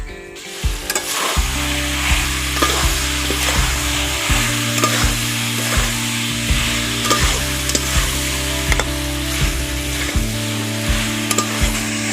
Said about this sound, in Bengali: এবার ভেজে রাখা কফি আলুগুলো দিয়ে দিচ্ছি কফি আলু একসঙ্গে দিয়ে দিচ্ছি